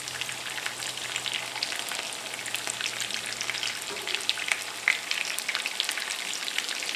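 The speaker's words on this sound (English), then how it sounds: "I'm going to let these guys fry up." Meatballs frying in a pan for spaghetti, a steady, close sizzle with crackling pops and spits scattered across it, continuous and even with no voices.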